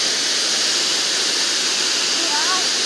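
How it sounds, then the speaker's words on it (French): A waterfall pours with a loud, continuous rushing hiss that fills the whole stretch, and a brief faint voice rises over it near the end. "on va descendre pour voir la cascade de plus près."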